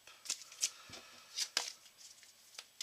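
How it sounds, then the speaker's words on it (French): Playing cards for The 7th Continent board game are shuffled close by and quietly, in a short burst of crisp riffling and flicking strokes with brief gaps between them. "Et on remélange."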